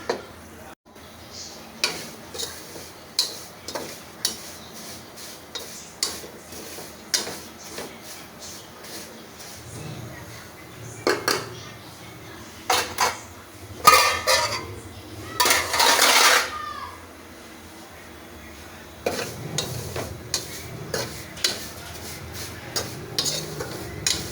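Vermicelli is stirred in a pan while it browns, with rhythmic scraping clinks of the utensil roughly once a second, a louder burst of sizzle midway, all close by.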